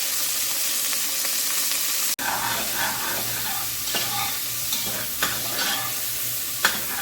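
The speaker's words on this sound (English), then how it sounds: "So I'm just frying the herbs while the pot over there is getting heated for the meat." Loud frying sizzle as herbs hit hot oil with a sharp clatter, then steady crackling and hissing with occasional stirring clinks.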